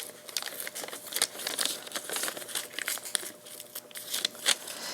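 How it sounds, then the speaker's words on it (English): Adhesive-backed craft foil is peeled slowly off its backing sheet, producing close, irregular crinkling and crackling bursts with small tearing sounds. "you carefully peel it off the sheet so that you still have that adhesive stuck to it"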